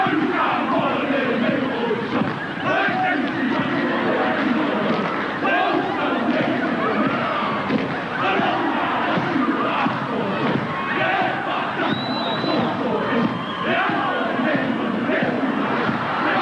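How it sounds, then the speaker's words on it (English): A huge crowd at the 1992 Pacific Cup rugby league final between Tonga and Western Samoa at Carlaw Park, Auckland, roars and chants steadily, a dense wall of voices and shouts sustained throughout without a break. "Plenty of support from the huge crowd here."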